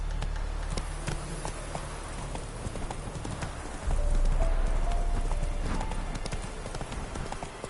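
Roach, Geralt's horse in The Witcher 3, gallops with a steady, fast clip-clop of hooves over a constant ambient wash of outdoor sound, growing heavier midway, with a brief whinny-like tone and no speech.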